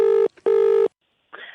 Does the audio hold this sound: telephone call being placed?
yes